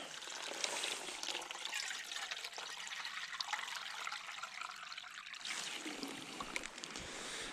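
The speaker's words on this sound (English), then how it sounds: "Spring water." Spring water flowing steadily along the Berryman Loop section of the Ozark Trail in Missouri, a continuous close trickling and splashing rush that holds even throughout, with a slight change in texture near the end.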